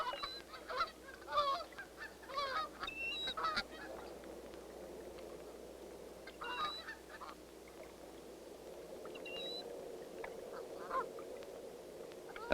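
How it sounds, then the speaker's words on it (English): Snow geese and blue geese honk at an Arctic nesting colony, with scattered short nasal honks and calls of several birds at moderate distance over a soft, breezy background, busier at first and then sparser. "At another nesting area in the colony, a mixed pair of snow and blue geese."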